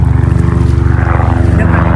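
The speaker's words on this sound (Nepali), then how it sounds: "हामीलाई देखेर हेलिकप्टर पनि हामीलाई उद्धार गर्न आइरहेछ" A rescue helicopter flies low overhead above flooded ground, its rotor throbbing in a loud, steady, rapid pulse that fills the whole moment without any talk.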